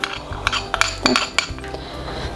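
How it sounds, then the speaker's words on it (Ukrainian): Honey, three egg yolks and a little sour cream being stirred together in a bowl, with a utensil clinking and scraping against the sides in irregular taps and rattles, close up and with no talking. "Так, і змішуємо все разом. Можна вінчиком, можна ложкою."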